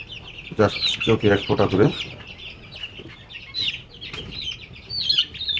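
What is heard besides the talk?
chickens clucking while being vaccinated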